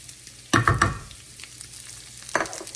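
Chopped onion hits hot bacon drippings with olive oil and starts to sauté, giving a few close bursts of sizzle and stirring clatter, then a quieter crackle, with another burst near the end.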